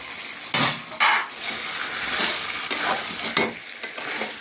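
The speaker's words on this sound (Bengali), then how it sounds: "মাংসটা এভাবে কষলাম, এভাবে মশলাটা সব দিকে মিক্সড হয়ে যাবে।" Chicken pieces sizzle in spiced oil while a spoon stirs and scrapes the pan, loud close clatters and bursts of frying with no voices.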